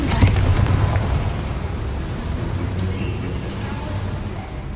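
The Confringo blasting spell in the Hogwarts Legacy video game goes off near boilers with a sharp explosive burst at the start, then settles into a lingering low, rumbling roar that slowly fades.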